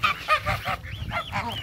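Geese honk repeatedly in a rapid series of close, loud calls, with no voices over them.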